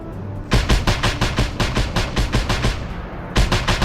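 Rapid gunfire bursts in the video game Just Cause 2, loud and close, a steady run of repeated shots with a short pause before a final burst.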